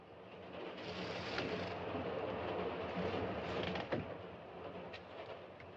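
A train carriage rumbles steadily along the rails in a 1940s British passenger train, a continuous mid-level clatter and hum with a brief louder knock near the end, with no talk over it.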